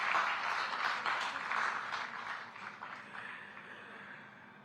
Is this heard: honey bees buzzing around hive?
no